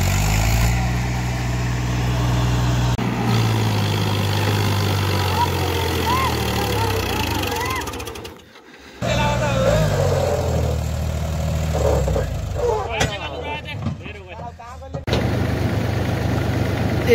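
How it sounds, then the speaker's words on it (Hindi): A tractor engine runs steadily nearby on a rural road, its low rumble continuing under a voice talking, briefly dropping out before resuming with some rattling and clatter. "एक ट्रैक्टर सामने जा रहा है"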